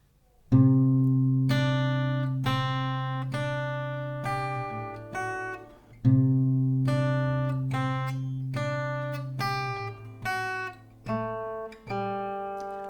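Slow acoustic guitar chords, each strummed or picked then left to ring out before the next, clear and close with no talking.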